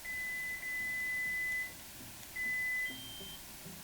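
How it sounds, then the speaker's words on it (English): A Theory Sabers A05 lightsaber gives a pair of clear, steady electronic beeps at maximum volume, each lasting about a second, over a faint background hum with no talking. "when you get that little beep, that's max volume"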